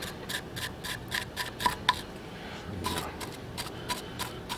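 Coarse 60 to 90 grit sandpaper scrubbing a Saturn Vue brake surface by hand, a rhythmic series of short rasping strokes with a brief pause midway, close and soft.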